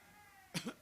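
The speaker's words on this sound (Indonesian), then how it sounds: "Sampai batuk." Two quick, sharp coughs close to the microphone, following a brief quiet hum.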